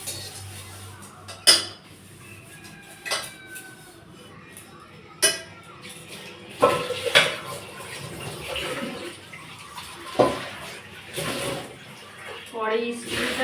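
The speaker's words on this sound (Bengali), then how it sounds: "তারপরে কড়াইটাও মেজে নিচ্ছি আমি।" A wok (kadai) being scrubbed among other dishes, with sporadic metallic clinks and knocks, running water and rubbing, close and moderately quiet, with a voice speaking at times.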